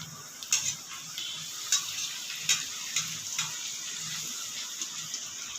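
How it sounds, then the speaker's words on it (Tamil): Puris deep-frying in hot oil for homemade pani puri, a steady loud sizzle with scattered crackles and pops, and no voices. "எண்ணெய் காஞ்சிருச்சு இப்போ பூரி போட்டுடலாம்"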